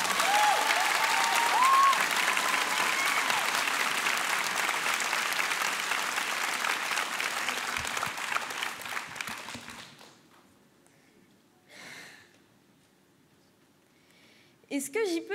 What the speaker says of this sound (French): un fracas d'applaudissements pour Anaïs Eberwein